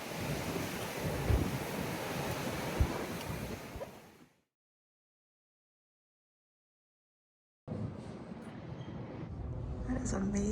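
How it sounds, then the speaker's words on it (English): Strong wind in Montana buffets the microphone in a loud, roaring rush, cuts out to silence, then returns just as forcefully. "It is really windy."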